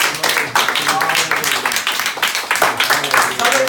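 A church congregation claps their hands in praise during a Spanish-language worship service, with dense, steady crowd clapping filling the room while voices carry on underneath.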